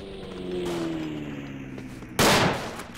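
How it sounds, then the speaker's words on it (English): A grenade detonates in the World War I shooter Verdun, a sudden loud broadband blast near the end that decays over a second, following steady battlefield rumble and a low droning tone. "Damn you and these grenades."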